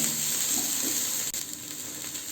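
Chicken soup ingredients being stirred in a pot, with steady sizzling and bubbling from the cooking, a brief clink near the middle.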